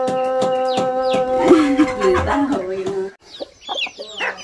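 Chickens cluck loudly and close at hand in a continuous run of calls, then go quiet briefly before softer clucking resumes.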